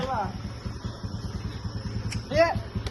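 A motorcycle engine runs at a low, steady idle-like thrum beneath a voice, with brief speech bursts over the continuous mid-range rumble of the bike being ridden nearby.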